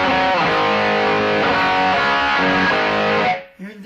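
An electric guitar plays distorted chords through a BOSS eBand JS-10 set to a chorus patch. The tone is loud and sustained with a shimmering, flange-like swirl, then cuts off sharply near the end.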